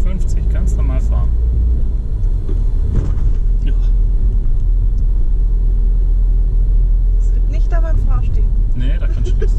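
A car's engine rumbles loud and close from inside the cabin during a driving lesson in Tübingen, a steady low drone as it speeds up toward 50, with people talking over it.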